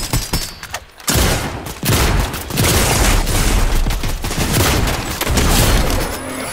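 Turret gunfire rattles in an online shooter match, a dense, loud barrage of rapid shots and booms that cuts out briefly, then resumes in sustained bursts.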